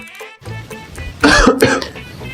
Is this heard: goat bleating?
no